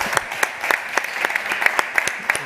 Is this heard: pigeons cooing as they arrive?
no